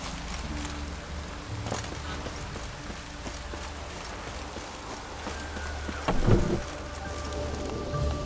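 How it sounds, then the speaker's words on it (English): Steady rain falls in The Witcher 3: Wild Hunt in Velen, a soft continuous hiss with faint patter, joined by occasional footsteps and a louder thump near the end, no talking. "Rain again."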